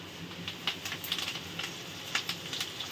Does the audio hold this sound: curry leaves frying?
yes